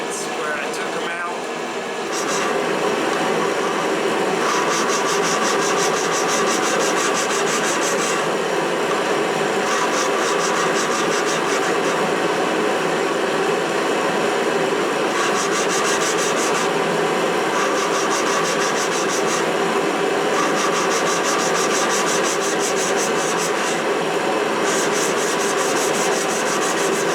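Valve lapping on a 2.2L Ecotec cylinder head gives a continuous close gritty rubbing of the intake valve against its seat, a steady grinding texture with faint rhythmic surges throughout.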